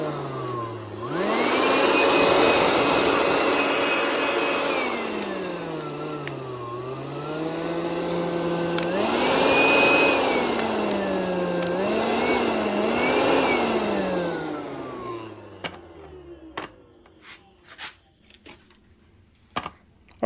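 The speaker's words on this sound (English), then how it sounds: "It's got 3 speeds on it. It's a blower." A Senix cordless three-speed blower roars up to a loud, whooshing whine, shifting pitch as the speed changes. It winds down after about fifteen seconds, followed by a few scattered clicks and handling knocks.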